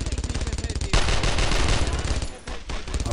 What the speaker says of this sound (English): Oh, it's an MG. It's really close.